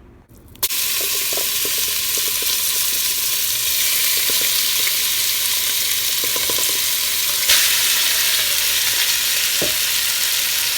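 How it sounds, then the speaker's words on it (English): Beef searing in very hot olive oil in a pot, a loud, continuous sizzle that starts abruptly as the meat goes in and keeps up steadily, with occasional small pops and stirring scrapes. "we're going to put our beef in there, and we're going to sear it so it's nice and brown all the way around"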